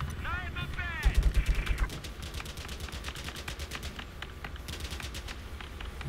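Gunfire in Battlefield 4, heard as a quick string of sharp, evenly spaced single shots near the start, followed by lighter crackling and game noise. People talk over the action.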